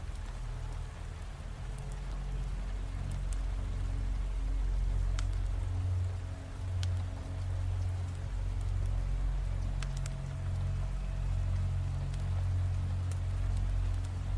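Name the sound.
rain sounds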